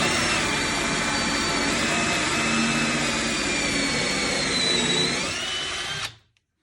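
A power drill whines steadily and loudly for about six seconds as it bores through a thick countertop for a soap dispenser, then cuts off abruptly.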